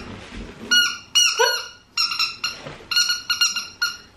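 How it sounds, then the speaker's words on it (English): A squeaky toy squeaked again and again in short, bright bursts, about nine squeezes with brief gaps, close by and fairly loud. "it's a squeaker, and she loves it."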